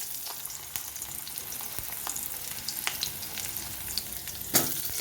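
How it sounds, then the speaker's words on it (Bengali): Potatoes fry in hot oil with a continuous crackling sizzle, close and moderately loud, broken by occasional pops and one sharper clink near the end, with no voices. "এবারে দিয়ে দেবো আলুটাকেও আমি ভেজে তুলে নেব।"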